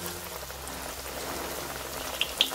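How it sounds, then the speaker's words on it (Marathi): Coriander vadi pieces sizzle and bubble steadily in hot oil, a soft continuous crackle close by with a couple of sharper pops near the end. "आपण कोथिंबीरच्या वड्या करून घेतल्यात आणि ह्या पण तळून घेऊया"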